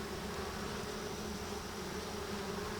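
Honeybees at a hive frame make a dense, continuous buzzing drone, close and even in loudness, with no voices over it.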